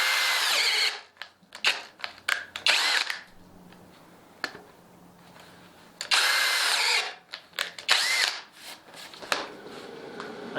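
A Skil 20V brushless drill driver runs on high speed in loud bursts, whining up and cutting off several times with brief pauses between runs.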